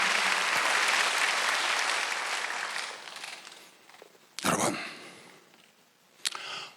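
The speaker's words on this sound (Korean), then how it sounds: "지금 박수로 하세요." Congregation at a Wednesday church service breaking into loud, sustained applause that swells and then gradually fades, followed by a few short, sharp bursts of clapping near the end.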